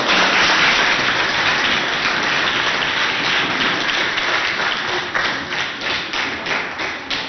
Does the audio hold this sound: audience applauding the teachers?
yes